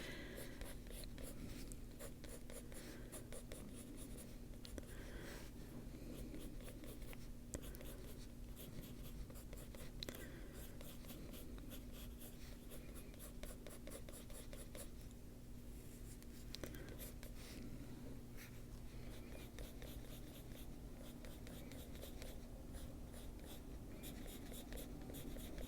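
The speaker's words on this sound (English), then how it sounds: "we'll go down and twist the pencil in our hand every now and then so we have a sharp" A pencil sketches fine hair lines on paper, giving soft, faint scratchy strokes that repeat steadily over a low constant hum, with no talking.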